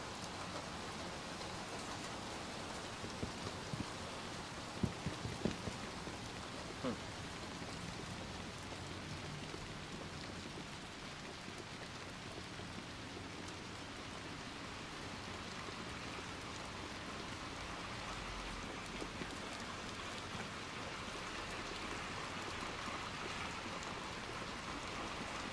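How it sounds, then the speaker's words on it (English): Steady rain falls in the video game Little Nightmares 2, a dense, even hiss that stays constant throughout with a few faint knocks near the start and no voices. "So rainy."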